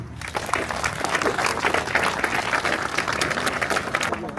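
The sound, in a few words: crowd applause at ceremony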